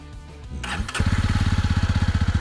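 A Jawa 300 CL motorcycle engine is cranked and catches, then settles into a loud, steady, rapid chugging idle close by, with no voices.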